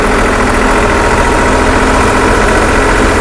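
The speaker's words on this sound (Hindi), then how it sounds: "इस व्यू से देखना दोस्तों ट्रैक्टर कैसा लग रहा है अपना चलते हुए," A 4x4 tractor engine running on a high mountain road near Pensi La, a loud steady mid-to-low rumble with constant vibration and no breaks, close and alone without voices.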